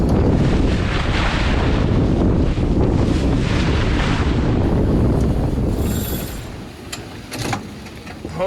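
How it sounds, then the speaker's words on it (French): Heavy, roaring wind noise batters a sailboat at sea in a fairly strong northwesterly with short choppy waves on an expedition toward Greenland, loud and continuous before dropping off sharply near the end. "qu'on navigue dans ce vent du nord-ouest assez fort, avec une mer assez courte"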